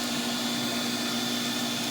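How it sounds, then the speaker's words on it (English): Vacuum seeder running in a greenhouse, a steady close motor whine with a constant hum, unbroken and alone for the whole stretch. "you turn your vacuum on"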